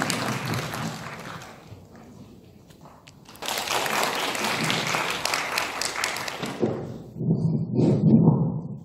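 Audience applause welcoming a lecturer to an economics lecture hall, a broad wash of clapping that swells midway and continues steadily, with some thumps and a louder burst near the end.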